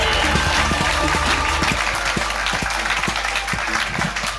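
A theatre audience at a live comedy show applauds a comedian's entrance, dense steady clapping from a crowd that stays strong throughout and thins slightly toward the end.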